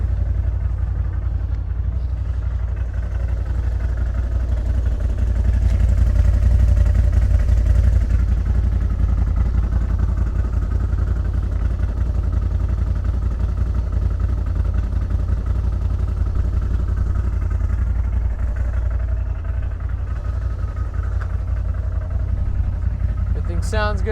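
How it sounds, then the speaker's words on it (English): A 2021 CF Moto ZForce 950 Sport side-by-side UTV engine idles steadily with a deep, low rumble throughout, holding close and fairly loud, with a faint rise near the end. "Let you hear the engine."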